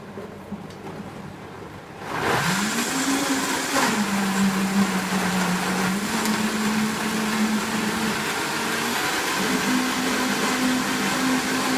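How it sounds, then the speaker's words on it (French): A kitchen blender starts up after a quiet moment and runs loud and steady while mixing juice ingredients, its motor drone wavering slightly in pitch as the load shifts. "je mixe ça avec mon mixeur"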